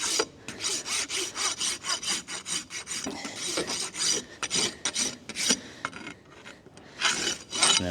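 A farrier works a rasp across the toe of a horse's hoof, giving steady back-and-forth rasping strokes in a quick rhythm that pauses briefly midway and then resumes, close and fairly loud, with nobody talking.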